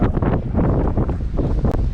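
Strong wind on a beach buffets the microphone in heavy, continuous low rumbles and gusts, loud and close, with no one talking.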